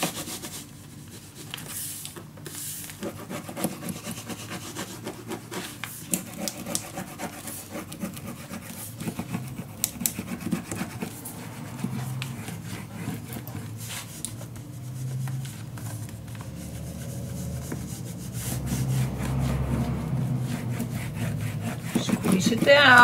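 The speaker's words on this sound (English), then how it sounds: "Burnish it down." Paper being burnished down by hand onto a scrapbook mini album page, a steady close rubbing and scraping that continues throughout and grows louder toward the end.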